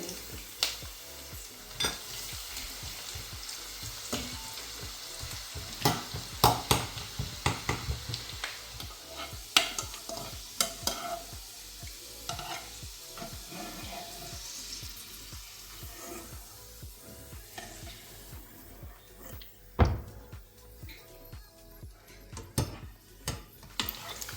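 Garlic sizzles and crackles steadily in oil, close up, with scattered sharp pops and the occasional scrape of a utensil stirring the pan while making prawn pickle.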